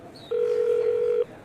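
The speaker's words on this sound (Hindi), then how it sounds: "ये किसको फोन मिला रही है?" A telephone dial tone sounds while someone places a call: a single steady electronic tone, clear and close, lasting about a second before it cuts off abruptly, with no talk over it.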